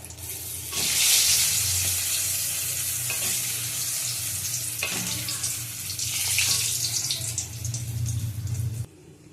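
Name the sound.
eggplant frying in oil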